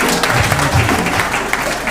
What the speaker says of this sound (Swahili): Tũhũrĩre papasi makofi.